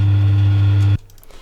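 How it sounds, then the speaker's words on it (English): A kitchen oven recorded as a bass sample gives a loud, steady low hum that cuts off abruptly after about a second, leaving faint room tone. "this bass line is made by using the oven sample I've recorded in the kitchen"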